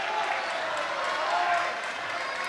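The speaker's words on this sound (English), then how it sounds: "Many fans cheering the Harlingen Cardinals" A packed high school basketball crowd cheers the Harlingen Cardinals with a dense, steady roar of voices and clapping that stays loud throughout.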